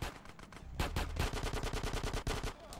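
Rapid automatic gunfire from enemies in Grand Theft Auto San Andreas, a loud burst of evenly spaced shots running nearly continuously after an opening single crack, with no talk over it.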